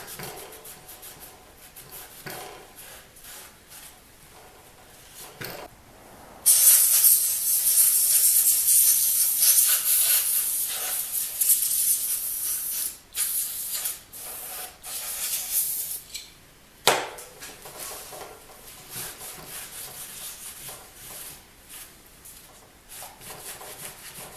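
Brake cleaner hisses from an aerosol can in a long, loud burst of spray of about ten seconds, broken by a couple of short pauses, with quieter rubbing and handling noises before and after.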